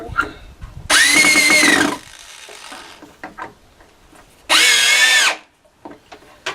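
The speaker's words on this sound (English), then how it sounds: "take our drill, and down we go" A power drill drives into a concrete casting mold guide in two loud, whirring bursts of about a second each, separated by quieter handling and shuffling noises.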